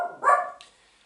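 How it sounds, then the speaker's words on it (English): A dog lets out one sharp, whiny bark-like yelp with a high screeching edge, close and brief, fading quickly into quiet. "what you are hearing is the screeching sighs of my dog in the background"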